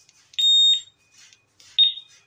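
Motorcycle remote security alarm on a Honda chirping in short, piercing electronic beeps, two louder tones with faint echoes between, close and without talk.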